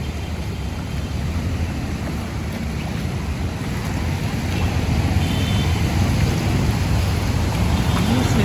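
Steady, dense rain pours down in Arumbakkam, Chennai, in a continuous broadband wash, growing slightly louder toward the end, with no voices.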